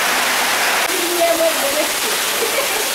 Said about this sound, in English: Cars submerged as others were carried away by the running water.